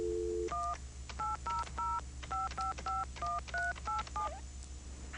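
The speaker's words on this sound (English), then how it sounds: "You just dial this toll-free number." Touch-tone telephone dialing a toll-free number, a fast run of about a dozen clear, evenly spaced beeps, close and alone over a faint steady hum.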